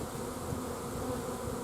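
Honeybees hum in a steady, dense drone while a nuc is installed into a hive, close and continuous with no pauses and no talking.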